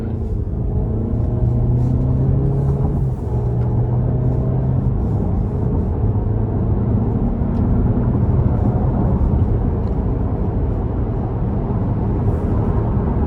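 A 2024 Cadillac XT4 accelerating in sport mode up an interstate on-ramp, a low engine drone climbing in pitch through several gearshifts under steady road and wind rumble.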